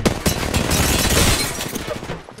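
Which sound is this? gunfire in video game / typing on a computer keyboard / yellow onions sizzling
gunfire in video game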